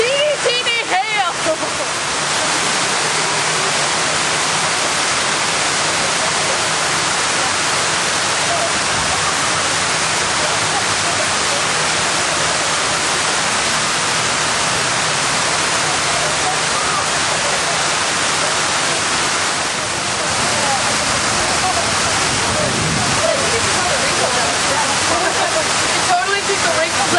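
Loud, steady roar of rushing water close by in Houston, a wall of water and tiny hail like a waterfall, broadband and continuous, with a voice talking over it near the end.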